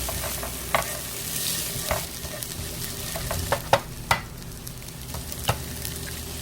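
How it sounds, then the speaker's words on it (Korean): Butter, carrot and green onion stir-frying in a pan for spam fried rice, a soft steady sizzle punctuated by several sharp taps and scrapes of a utensil on the pan, close and moderately quiet. "버터 한 조각, 당근과 파를 넣고 볶고"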